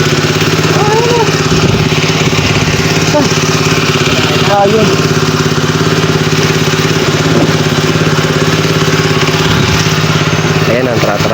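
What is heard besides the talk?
motorcycle engine idling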